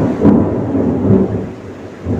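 Thunder rumbles in a FIFA Mobile 23 stadium match, a steady rolling growl with a rain-like wash under it, continuous and fairly loud with no voices.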